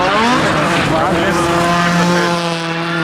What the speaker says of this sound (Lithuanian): dar vienas išvairuoja automobilį.